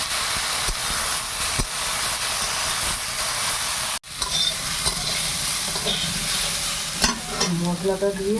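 Magur catfish fries with turmeric in a covered pan, giving a continuous hissing sizzle with a brief dull knock midway and some light clattering near the end.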